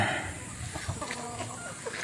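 Sick chickens, some with mild fowl pox on the comb, clucking softly and steadily in a coop, with a constant low murmur of other birds behind.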